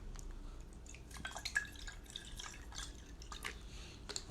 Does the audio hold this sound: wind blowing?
no